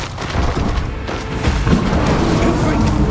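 Fire spell bursts in the game Hogwarts Legacy, loud crackling whooshes and impacts during a busy duel, with layered booms and clanks running continuously throughout.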